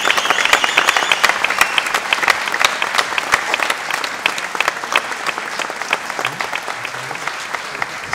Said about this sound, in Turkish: Kocaman alkışlar istiyorum